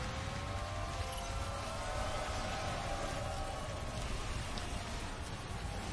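Rain falls steadily in the Motorsport Manager racing game, a dense continuous hiss of drops on the track at an even level for several seconds, with faint tonal engine-like sounds running underneath.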